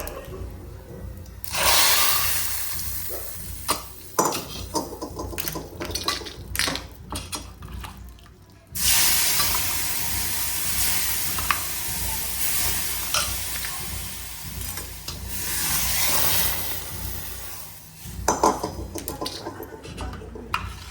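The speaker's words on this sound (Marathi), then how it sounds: "पहा मस्त फोडणी झालेली" Spices and dried red chillies crackle and sizzle in hot oil in loud bursts, with quieter gaps and clinks of a spoon, close by and continuous.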